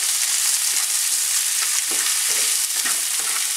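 Spanish chorizo sausages frying in a pan over a camp cooking fire, a dense, bright, continuous hiss and crackle up close, with a few soft knocks and no voices.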